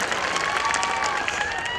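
Audience at a Maharashtra Congress rally in Bhiwandi applauding a party leader, a dense, steady wash of clapping from a large crowd that carries on through the whole moment with no letup.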